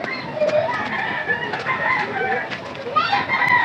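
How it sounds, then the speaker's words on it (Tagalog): A rooster crows nearby amid clucking chickens, with faint background voices and outdoor noise. "Oh, may manok. Gusto niya makasama sa ating magi."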